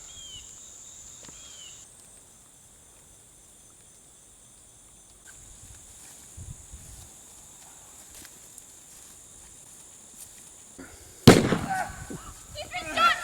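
Gunshots in an independent action film set in Hartsville, South Carolina: one sharp, loud crack near the end, quickly followed by a burst of rough noise, after a long stretch of quiet background hiss and faint insect-like chirping.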